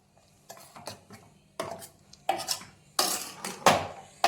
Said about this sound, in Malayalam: നമ്മളത് നന്നായിട്ട് മിക്സ് ചെയ്യാം.